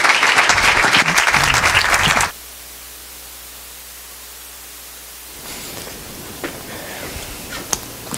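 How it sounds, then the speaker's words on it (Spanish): A church congregation applauds Pastor Miguel Núñez with loud, dense clapping for about two seconds. The clapping then cuts off sharply into near silence with faint room noise. "un aplauso al pastor Miguel Núñez"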